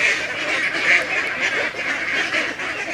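Ducks quack steadily in a harsh, continuous chorus that sounds like several birds calling at once, close and fairly loud, with no talking.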